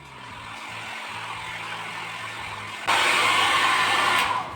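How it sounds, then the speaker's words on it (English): A hair dryer's steady mechanical whir hums along while drying coffee-stained paper, then abruptly jumps to a louder, hissier blast of blowing air that continues to the end. "you can use a hair dryer to dry it"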